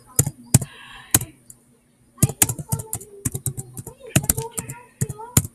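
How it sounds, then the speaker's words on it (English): Bursts of rapid clicky keystrokes on a computer keyboard, close and loud, arriving in two clusters with a pause between them. "I'm trying to type."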